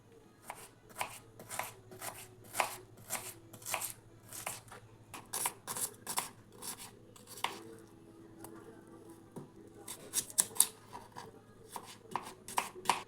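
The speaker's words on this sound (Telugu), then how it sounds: "ఫస్ట్ అయితే ఆనియన్స్ని కట్ చేసుకుందాం" A knife chopping three onions on a board, a long run of crisp, evenly spaced cuts with brief pauses, close and fairly quiet, without speech.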